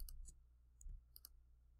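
A computer mouse is clicked a few times in quick short pairs, faint and close, over a quiet low hum with no voices.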